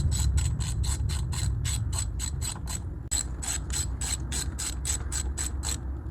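A hand ratchet clicks in quick regular bursts while tightening the wire-holding bolts on a 2002 Mitsubishi Galant engine during valve cover work, close and fairly quiet with a brief pause midway and no speech.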